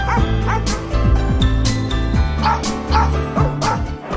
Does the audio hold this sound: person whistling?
no